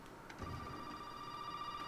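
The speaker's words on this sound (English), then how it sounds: "Telephone." A telephone rings in the video game Resident Evil 7, a sustained electronic ring held steady across the whole stretch at moderate volume, with no speech.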